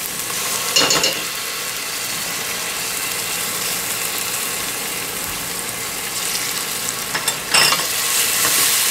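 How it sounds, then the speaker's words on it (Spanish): Minced garlic sautés in a pan for mondonguito cau cau, producing a steady, fairly loud hissing sizzle with a couple of sharper scrapes of stirring near the start and end, close by with no talk. "Vamos sofriendo esto,"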